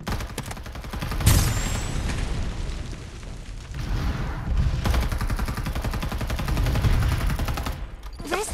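Loud, dense gunfire and booming blasts in a LIVIK battle royale match, sustained sustained volleys with heavy impacts and a distant sniper-style crack.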